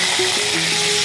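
Cumin paste sizzling and frying in a pan during home cooking, a steady broadband hiss with a few faint scrapes, close and fairly loud, with no voices.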